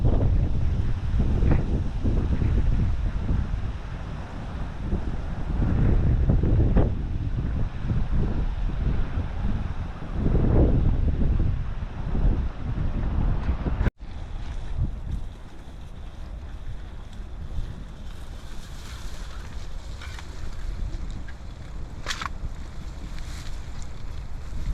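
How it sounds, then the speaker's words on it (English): Wind gusts rumble against the microphone over water rippling on a cold winter day at low tide. The roar is loud and steady, then eases into a softer, airy wash with light trickling and faint splashes. "I'll let you listen to the wind, the water rippling, running out to low tide"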